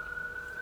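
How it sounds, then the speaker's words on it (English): A police siren holds a single steady wail, faint and distant, alone without voices. "lights and sirens"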